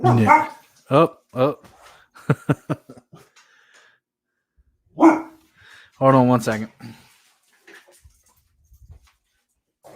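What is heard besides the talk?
dog barking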